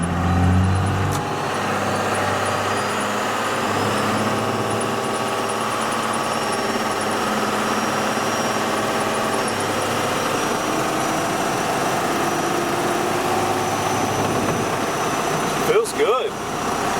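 First-generation 12-valve Cummins diesel truck idling and pulling away, a steady low engine drone with a rising turbo whine building over time, heard from inside the cab with someone talking over it.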